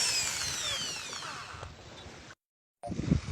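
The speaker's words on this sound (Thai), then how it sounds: "เปลี่ยนดอกสว่านเสร็จแล้วนะเราก็เจาะรูรูเล็กเลยนะ" After a bit change, a power drill bores a small hole for a Lowrance sonar transducer mount, giving a steady, moderately quiet whine that falls in pitch, cuts out briefly, then kicks back in.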